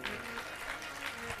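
A crowd applauds steadily, the clapping somewhat distant and soft, running without a break.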